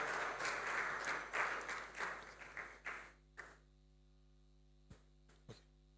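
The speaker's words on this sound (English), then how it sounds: "Let's maintain the resounding applause as she comes up stage to make her presentation" Conference audience at KBS Conference 2024 applauds as a presenter comes up on stage, a burst of clapping that thins to a few scattered claps over a steady electrical hum.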